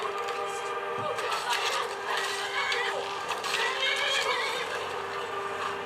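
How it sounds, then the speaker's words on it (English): A horse in a video game neighs and gallops, a loud shrill whinny over rapid clip-clop hoofbeats and busy game sound, steady and close throughout. "Go horse."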